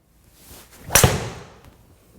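A single sharp club strike as a Callaway Epic Super Hybrid hits a golf ball, one crisp impact with a short fading tail, no talk.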